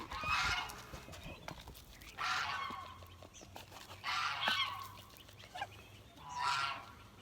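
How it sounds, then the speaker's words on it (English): A goose on a homestead gives four loud, harsh honks at a steady interval of roughly two seconds, close by against quiet background noise. "Mama Goose wants her scoop."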